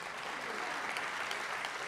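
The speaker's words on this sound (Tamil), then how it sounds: "உங்கள் சார்பாக கேட்டுக்கிறேன், சீமானுக்கு 1 நிமிஷம் கைத்தட்டுங்க" An audience at a stage speech claps steadily throughout, a soft, even patter of many hands heard from a distance at low volume.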